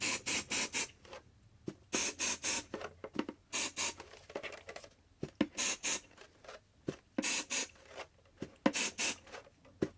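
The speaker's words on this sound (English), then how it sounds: "And I'm going to use my temporary spray." Temporary adhesive spray from an aerosol can is sprayed onto embroidery stabilizer in a series of short hissing bursts, often in quick pairs or triples, close and clear with quiet pauses between.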